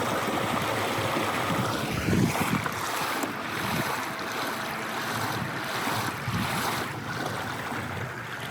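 An NK300 kayak motor running at full throttle on open water, giving a steady loud drone blended with rushing water and heavy wind buffeting the microphone, with no talking.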